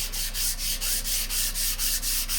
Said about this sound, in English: I got my sanding block and some 220 sandpaper.